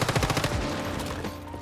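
Rapid automatic gunfire in the video game Once Human, a burst of quick repeated shots in the first half second that trails into a dense rumbling clatter, loud and close.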